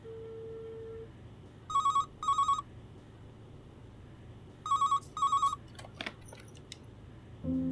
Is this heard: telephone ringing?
yes